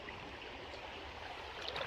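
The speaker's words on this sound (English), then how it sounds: "You can hear some water running" Faint stream water running among big rocks over a fresh flood deposit, a quiet continuous trickle and gurgle heard from a short distance.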